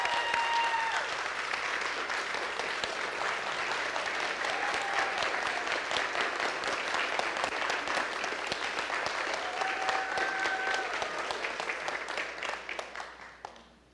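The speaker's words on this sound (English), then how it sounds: "why don't we give a standing applause for everyone who did that" A congregation gives a standing ovation: dense, steady clapping from many hands, held evenly loud for about twelve seconds before tapering off quickly at the end.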